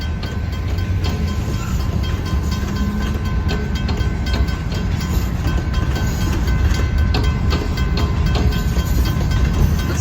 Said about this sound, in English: It's a grain train this time too.